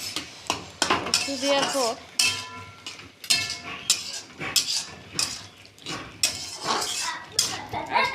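A spoon scrapes and clinks against a pot of simmering eggplant, greens and potato curry with poppy seeds, in irregular knocks and rattles, with someone talking over parts of it.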